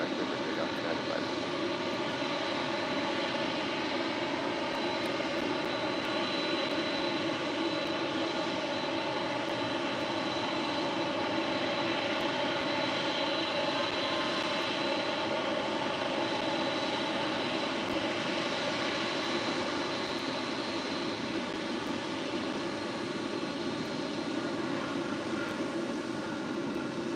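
An airliner takes off from runway 25 right at LAX, its engines a loud, steady, broadband roar that holds constant throughout, with no voices over it.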